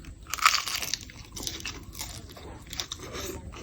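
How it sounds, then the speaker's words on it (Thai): Crunchy bites of grilled mackerel, eaten with shrimp-paste rice, sound as a quick run of close crisp crunches and chewing, loudest near the start, then softer scraping and munching. "มากินปลาทูเลยครับ"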